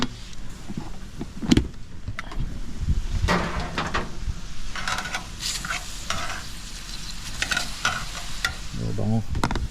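Chicken pieces sizzling on a barbecue grill in rainy weather, a steady broadband hiss with scattered clatter and handling knocks; no talk.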